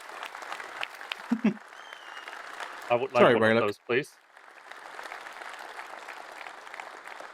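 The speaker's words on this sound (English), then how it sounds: "Great applause." A brief burst of clapping and crowd noise rises out of a murmuring fanfest audience during a live keynote, with people talking before and after.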